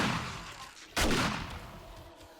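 A single loud, close shotgun blast booms in the zombie survival video game 7 Days to Die during a night horde attack, its sharp report fading into a rumbling tail over a low background of game noise.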